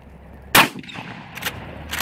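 A single sharp, loud Adler A-110 shotgun blast aimed at a Coca-Cola can outdoors, followed by fainter scattered cracks and impacts.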